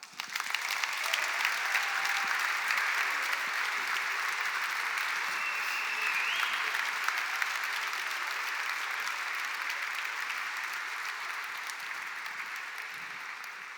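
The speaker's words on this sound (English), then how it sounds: "May I have a big round of applause for Delft Hyperloop 9" A large audience claps steadily for the Delft Hyperloop team at a design reveal, a dense, even wash of applause that carries on without a break and slowly thins toward the end.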